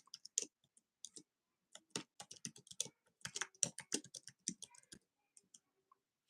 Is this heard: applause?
no